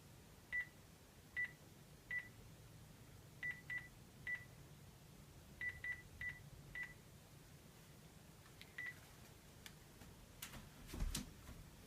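Touch-tone phone dialing: a series of short, clean DTMF beeps in quick irregular groups, fairly close and fairly quiet, followed by faint clicks and a soft rustle near the end.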